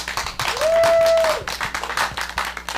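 Applause and clapping from a comedy club audience after a stand-up comedian's set, a dense burst of claps lasting a few seconds, with a sustained tone running through the middle.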